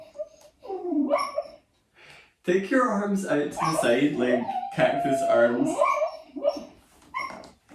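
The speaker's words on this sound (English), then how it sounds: "Apologies if you can hear the pup dreaming." A puppy whimpers and yips softly in short bursts while dreaming, mixed in with a person speaking steadily close by.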